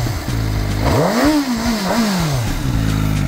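A CF Moto 500SR motorcycle engine idles, then gets a sharp rev that climbs and falls back before a second, smaller blip settles into idle again, loud and close.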